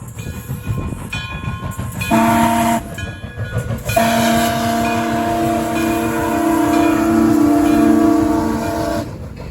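Locomotive Frisco 1630 runs steadily at track speed on the Illinois Railway Museum main line with a rumbling, rattling roll, and its horn sounds in long sustained blasts, loud and close.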